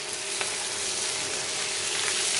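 Mushroom soup sizzles in a pan as flour is stirred in, a steady close frying hiss with faint scraping and stirring touches.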